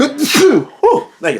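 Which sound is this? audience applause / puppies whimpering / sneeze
sneeze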